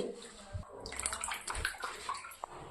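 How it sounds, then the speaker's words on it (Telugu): Tamarind leaves being washed by hand in water, giving soft splashes, sloshing and gurgles in short uneven bursts, close and fairly quiet. "సింతాక్ని నీట్గా కడుక్కుంటున్నాం"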